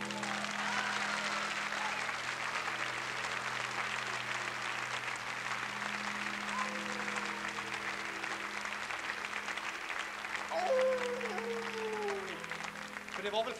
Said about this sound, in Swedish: En applåd tycker jag.